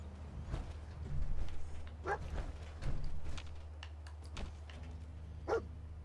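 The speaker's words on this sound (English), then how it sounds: "well, doggo's barking." A dog in the video game Fallout 4 barks in scattered sharp bursts, fairly faint against a low steady game hum, with several separate barks spread out and no speech.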